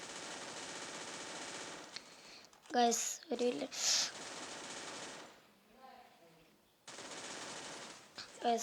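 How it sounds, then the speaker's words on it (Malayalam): Rapid bursts of gunfire in a shooting video game, with a shield mechanic, come in loud clusters between about three and four seconds and again near the end, between stretches of steady game noise, with someone talking over it. "നമ്മൾ ചറപ്പറ വെടിയൊക്കെയാണ്"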